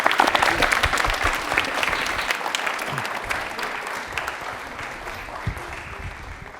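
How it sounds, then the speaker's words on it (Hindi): A studio audience applauds a quiz show contestant on DD Rajasthan's Prashnottari with a burst of dense clapping that starts strong and slowly thins and fades, with faint voices underneath. "तालियां एक बार जोरदार हो जाए सरफराज के लिए"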